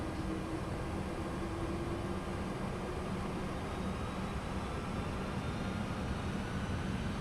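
The engines of an MD-11 airliner in Microsoft Flight Simulator 2024 throttle up into a steady, loud jet roar that stays even and unbroken throughout, with no voices.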